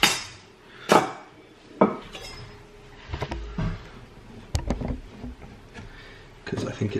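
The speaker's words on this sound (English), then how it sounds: "could I have a chopping board out of there?" Chopping board pulled out of a cupboard and handled in a home kitchen while baking gingerbread, with several sharp knocks and clatters of wood against hard surfaces and people talking in between.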